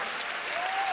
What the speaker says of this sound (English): I thought you'd be clapping faster and louder.